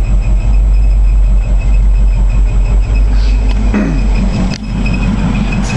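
A 1982 Chevrolet C-10 pickup with a Muncie four-speed racing transmission, its engine idling loudly and steadily in first gear with the clutch let out, a close, even throb with a brief dip near the end.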